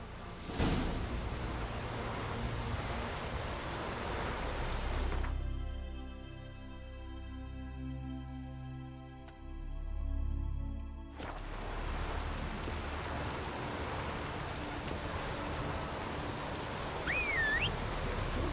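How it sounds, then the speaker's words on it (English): Rain falls as a broad steady hiss in the video game The Witcher 3: Wild Hunt, interrupted midway by a tonal musical passage before the downpour returns, with no speech. "Take a soothsayer to know when it's raining."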